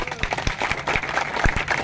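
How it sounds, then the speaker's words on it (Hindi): Applause from a gathered crowd at a road widening and strengthening inauguration by a local legislator in India, with scattered sharp claps over a steady murmur; some voices can be heard underneath. "तालियां बजा दिया जाए"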